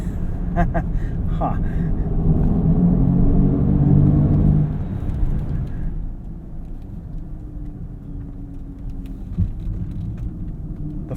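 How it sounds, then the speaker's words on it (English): A 2023 Mercedes-AMG EQS electric car launching hard: a steady low road and motor rumble that swells in the first seconds then eases to a lower drone, heard from inside the cabin with a brief voice. "Let's do a quick launch here."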